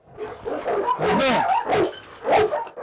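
Several dogs, a Dogo and a Rottweiler, bark and yelp close by in uneven bursts, a few rising whimpering cries mixed in, loud and excited.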